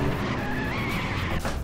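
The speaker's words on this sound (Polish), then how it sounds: "W tej grze samochody nie brzmią tak fajnie." A Nissan Silvia drifting in the City Car Driving video game skids with a sustained tire squeal over a revving engine, loud and close in a brief burst.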